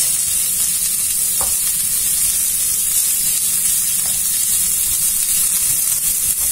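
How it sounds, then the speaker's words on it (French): Olives, onions and carrots cook in a pan with a loud, continuous hiss of sizzling, steady and close throughout, with only faint occasional stirring taps underneath. "Je vais rajouter les olives. Je vais mélanger et je vais laisser encore cuire pendant 5 minutes."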